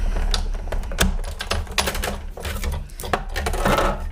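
Big Shot die-cutting machine being hand-cranked to cut an elephant-shaped card from cardstock, a continuous dense clattering and grinding with repeated clicks as the plates roll through, close and fairly loud for about four seconds.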